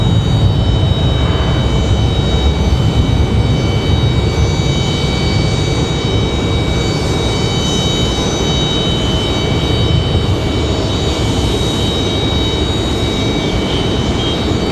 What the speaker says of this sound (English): I believe this is our FedEx 767 right here